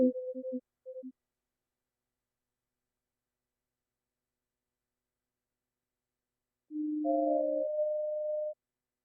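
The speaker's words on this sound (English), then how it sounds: "sine waves really." Pure, steady synthesizer sine wave tones: a few short beeps at the start, then after a long silence a sustained pair of smooth tones lasting over a second.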